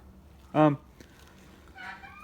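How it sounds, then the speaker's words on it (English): Wild turkeys call outdoors: one loud, short, harsh call rings out, then a fainter, warbling call follows a moment later against quiet ambient noise. "I don't know what the turkey's doing. They're just wild turkeys."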